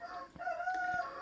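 A frightened chicken indoors near an oven gives a loud, shrill, wavering call that rises and holds for about a second, close by with no talk over it.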